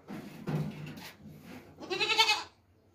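A goat, a single young kid weighing 9.5 kilos, gives two loud bleats near the microphone while held on a scale, the second strained and wavering, with brief handling noise between.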